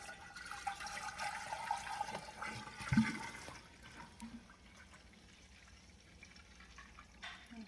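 Cranberry cocktail poured from a large 3.78-litre jug, a steady liquid gurgle and splash with a brief louder gush midway, then a softer trickle trailing off.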